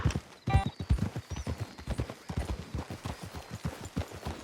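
Steady rhythmic clip-clop of horse hooves on a hard surface, several horses walking close by, with a brief whinny early on, in the video game Red Dead Redemption 2.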